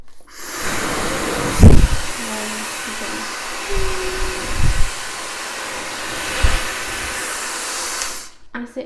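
A Dreame Hair Gleame high-speed hair dryer blows with a steady, loud airy whoosh close by for several seconds, with a few brief handling knocks before it shuts off.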